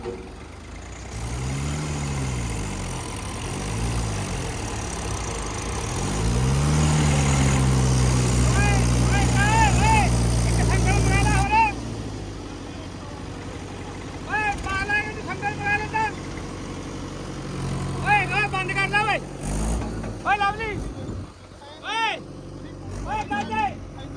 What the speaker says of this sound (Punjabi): ਟਰੈਕਟਰ ਨੇ ਜ਼ੋਰ ਮਾਰਿਆ ਬਾਈ ਤਾਂ ਟਰੈਕਟਰ ਨਿਕਲਿਆ